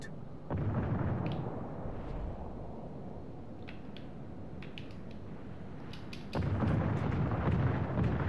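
Torpedo explosions in a naval warship battle video game: a deep rumbling blast arrives early, then a second, heavier low boom bursts in near the end over a steady background roar.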